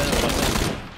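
Gunfire in the video game PUBG: a quick, loud burst of shots packed into about a second, then cutting off.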